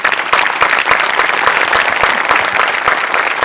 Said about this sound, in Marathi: मला असं वाटतं सचिन मोटे आणि अमोल पाटील दोघांसाठी प्रचंड टाळ्या व्हायला पाहिजे